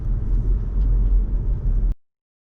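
Car driving on a road near Kuantan, Malaysia, heard from inside as a steady low rumble of engine and tyres, fairly loud and continuous until it cuts off abruptly near the end.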